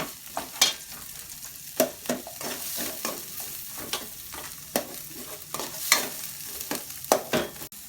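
Ginger sautéing in a pan with chicken, a continuous sizzle broken by frequent sharp scraping strokes and clicks from stirring, close and fairly loud.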